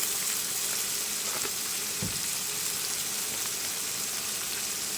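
Prawns fry in a pan with a little salt and turmeric, giving a dense, steady close sizzle that holds evenly throughout, with a faint spoon tap near the middle.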